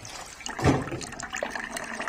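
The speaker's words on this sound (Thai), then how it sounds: "เทน้ำลงไปดูจนกว่ามันจะ สะอาดนะครับ" Water poured into a sugarcane juicer to rinse it splashes and gurgles in a short, close burst that swells early and settles into lighter trickling.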